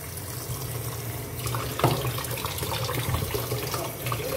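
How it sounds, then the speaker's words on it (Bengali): Tap water pours steadily while tangra fish are washed in a kitchen sink, a continuous close splashing flow with a brief clatter partway through. "এটা ভালো করে ধুয়ে নিই ট্যাংরা মাছটা।"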